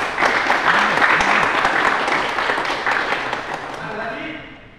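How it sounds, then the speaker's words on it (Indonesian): Classroom applause for a student named Lutfi during a lesson on engine components, brisk clapping from a small group with voices chattering over it, gradually thinning out toward the end. "tepuk tangan untuk Mas Lutfi."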